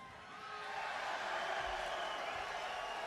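A crowd at a boxing match cheering and shouting, swelling louder after the first second and holding a dense, roaring level.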